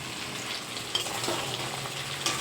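Mutton being braised and stirred in a pan on a home stove, giving a steady close sizzle and fry with a couple of brief spoon scrapes, no voices.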